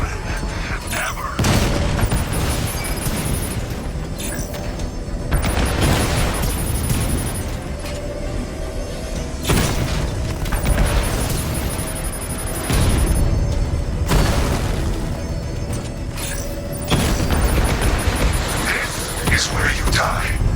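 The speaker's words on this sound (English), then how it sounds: "The explosion disabled the main cannon." Heavy booms and rumbling blasts roll through a Batman: Arkham Knight combat scene, loud and sustained across the stretch with recurring surges, mixed with game dialogue and effects.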